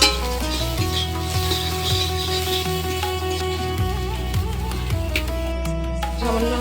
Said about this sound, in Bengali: পাট শাক দিয়ে আবার আমরা সুন্দর করে নেড়ে চেড়ে নেব, একটু ভাজা ভাজা করব